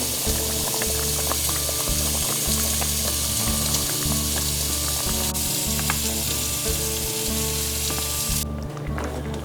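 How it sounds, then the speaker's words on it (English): Diced celery going into beans frying in a pan, a loud, close, continuous sizzle and crackle with stirring and bubbling throughout that cuts off sharply near the end. "Now I'm adding half a cup of diced celery."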